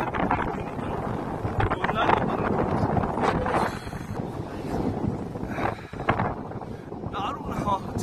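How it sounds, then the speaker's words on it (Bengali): Strong mountain wind at Devprayag buffets the microphone in loud, gusty rumbles that rise and ease, with a voice talking over it throughout. "হাওয়ার আওয়াজ শুনতে পাচ্ছ কিনা, অপূর্ব পাহাড়ি হাওয়া হচ্ছে, অপূর্ব হাওয়া।"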